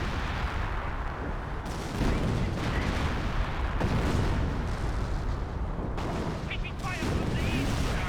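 An artillery barrage in the Company of Heroes video game battle, with repeated booming impacts and explosions rumbling across a dense wartime din, while a commentator talks over it.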